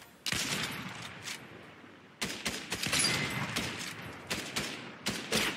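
Gunfire from a sniper rifle and other weapons in Fortnite, a rapid series of sharp shots and bursts that go on almost without a break, fairly distant and dense, with no talk.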